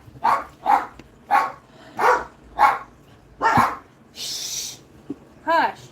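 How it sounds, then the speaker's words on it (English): Dogs in a home bark in a steady run of about seven sharp, fairly close barks, then a person shushes them and a voice speaks briefly at the end. "Y'all know my dogs are gonna go nuts."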